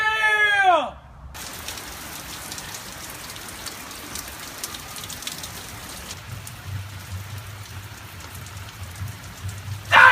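Steady rain falls throughout, a dense hiss of drops on surfaces heard up close, briefly preceded by a short vocal sound and ending with a louder burst.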